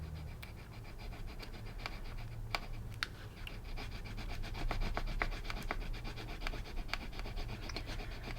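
Steady rubbing and scratching from pressing a rose transfer onto a sticky note with the back of a cutter, a continuous close dry rasp with small ticks, no voices.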